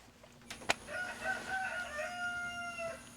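A rooster crows at a distance, a drawn-out harmonic call, after a couple of sharp knocks, with faint clucking around it.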